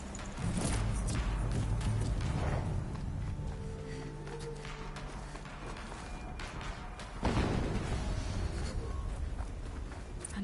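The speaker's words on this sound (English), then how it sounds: "Explosion." Explosions in the Horizon Zero Dawn video game, a heavy low boom near the start and another around seven seconds, over continuous rumbling game soundscape with scattered thuds.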